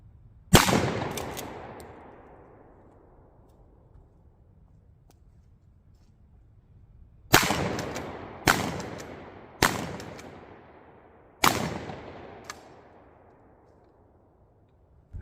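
A 12 gauge shotgun loaded with 7.5 shot fires five loud, sharp blasts at close-range flour bags outdoors. One shot is followed by a long pause, then four come in quick succession, each ringing out and fading.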